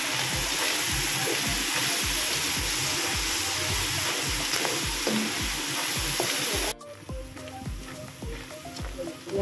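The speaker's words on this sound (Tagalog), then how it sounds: "haluin lang natin, gisa-gisa" A steady loud sizzle of a sauté in a pan seasoned with cracked pepper and soy sauce, with rhythmic scraping of a stirring utensil, the hiss dropping sharply near the end while stirring continues.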